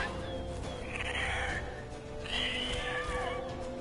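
Horse in the video game The Witcher 3: Wild Hunt, two drawn-out whinnies at moderate distance over a low ambient game backdrop, each lasting about a second, with no talk.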